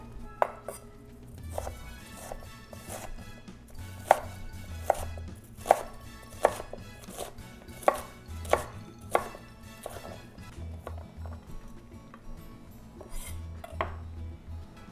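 Purple onion chopped with a knife on a board, a long run of crisp, regular knocks at a steady rhythm, close and distinct, with faint clinks of kitchenware in the background.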